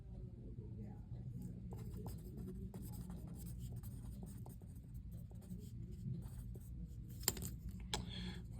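A pencil scratches quickly on paper during an AP statistics exam, with soft continuous writing strokes and small taps close by under a low room hum.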